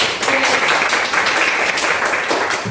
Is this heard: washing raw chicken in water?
no